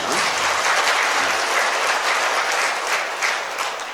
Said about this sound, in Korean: 박수가 나와야 되는데 이쯤이면.